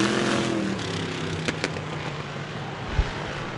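Vintage race cars roar off the green at the start of a 15-lap dirt track feature at Merrittville, a dense, steady wall of engine noise from a distance with a couple of sharp knocks.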